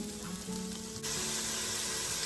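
Food flash frying in a hot pan for a lentil dish, a steady close sizzle that jumps louder and brighter partway through.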